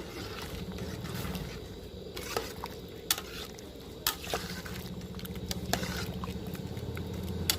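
Bamboo shoot curry bubbling in a pot, a soft, steady simmering patter with scattered clicks and knocks of a utensil against the pot, fairly quiet and close, with no voices.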